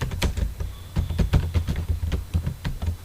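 Code is typed on a computer keyboard in quick, irregular bursts of close, crisp key clicks with short pauses between runs, and no voice over them.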